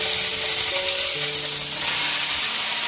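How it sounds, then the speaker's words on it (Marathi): Paneer for matar paneer sizzles and crackles steadily in hot oil in a pan, a close, continuous frying hiss with no talking. "पनीर जरा फ्राय करून घेते"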